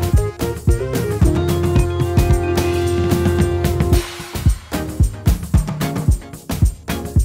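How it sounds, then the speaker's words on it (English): Soloed organ run from an Afrobeats-style beat, sustained chordal tones under punchy percussive hits that break into a rhythmic run toward the end, loud and dense with no voices. "Yeah, organs. So let me solo that real quick so you get to hear how they were performed."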